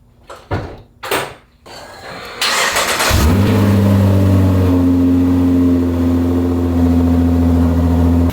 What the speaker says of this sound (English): Let's go ahead and try to start the car before we put any of the covers back on.